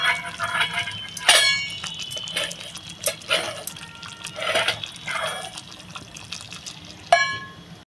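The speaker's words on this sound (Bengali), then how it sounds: "দেখেন বন্ধুরা কি সুন্দর একদম টকবক করে ফুটছে।" Prawns with gondhoraj lemon leaves steam in a clay pot, bubbling with irregular soft pops and drips and a few sharper splashes, close and moderately loud.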